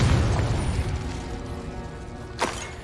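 A Confringo explosion spell in Hogwarts Legacy goes off with a heavy low rumbling boom that fades away, followed by a short sharp crackling burst near the end.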